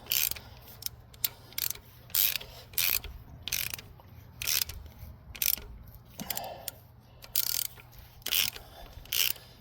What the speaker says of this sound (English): dual step tap is actually acting like a drill bit at the same time. it's reaming out the hole as it's making the new threads.